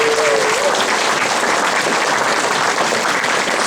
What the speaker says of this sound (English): give yourselves a big round of applause for that.